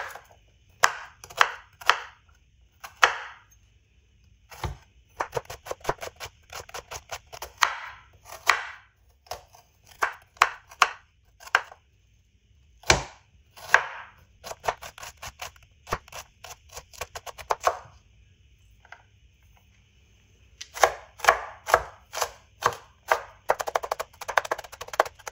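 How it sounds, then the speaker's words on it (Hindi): Two onions diced small with a knife, a steady run of crisp, close chopping strokes on a board in quick bursts, with short pauses between rounds. "अब यहाँ पे 2 प्याज लिए हैं, इनकी भी कटिंग करेंगे।"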